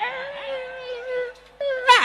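A female dog gives a drawn-out, tonal whining cry that holds steady, breaks off briefly, then returns rising into a sharper yelp at the end.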